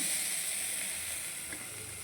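Fish and okra frying in hot oil give a steady, close, bright sizzle with constant hissing for the whole stretch, with no voices.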